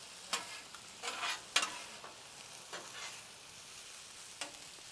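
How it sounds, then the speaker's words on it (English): Rice being mixed as it fries on a griddle, a soft background sizzle broken by several scraping, stirring strokes of a spatula, quiet and close with no talking. "you wanna come in here and mix your rice up"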